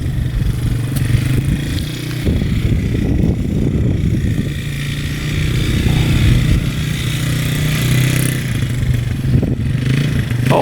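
ATV engine revs hard at wide-open throttle, a loud, close, continuous roar with rattling and scraping clatter from the machine as it runs.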